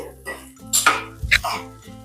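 A spoon stirs sugar into sabudana usal, a sago dish, in a metal pan, giving a few sharp clinks and scrapes against soft background music or hum.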